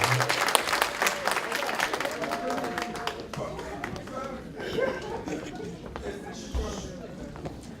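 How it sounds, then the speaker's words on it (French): Audience applause for a dean at a New Year's greetings gathering in New York, dense clapping that starts strong and gradually thins and softens, with scattered individual claps and murmured voices toward the end. "Merci d'applaudir le doyen Robert, s'il vous plaît"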